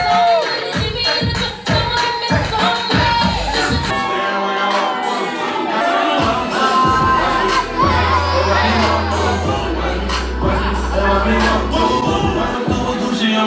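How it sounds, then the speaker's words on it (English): A wedding-reception crowd cheers, whoops and shouts for the bridesmaids, loud and continuous, while thumping music with a heavy bass line plays underneath. "Give it up for the bridesmaids."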